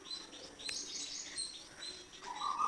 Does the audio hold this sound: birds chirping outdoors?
yes